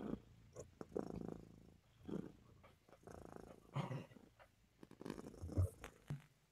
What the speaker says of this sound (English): I was seeing if I could get Kayla close enough to the mic so you could hear the purr.